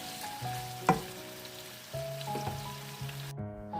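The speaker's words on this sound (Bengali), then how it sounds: "তারপর একটি আলাদা কড়াইতে ভাজি করে নিচ্ছিলাম" Boiled potatoes fry in a separate pan with a soft, steady sizzle and an occasional spatula knock, close but fairly quiet, cutting off abruptly at the end.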